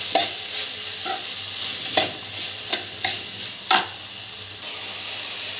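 Food frying on high heat in a pan, a steady sizzle broken by several sharp scraping clacks of a spatula stirring at irregular intervals, close and clear with no talking.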